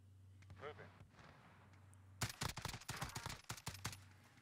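Call of Duty gunfire as a team lays down suppressive fire: a quiet stretch with faint voices, then dense, rapid bursts of shots in quick irregular volleys through the second half.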